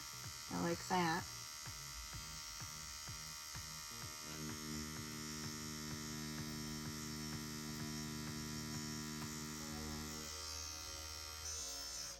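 A battery-powered rotary tattoo machine on a BRONC R1 battery, fitted with a larger needle grouping, spins up after a few clicks into a steady, fairly quiet electric hum and buzz that runs on for several seconds before winding down.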